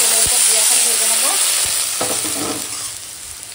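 Cut bitter gourd pieces sizzle steadily in hot oil in a pan, with occasional scrapes and knocks of stirring over the constant frying hiss.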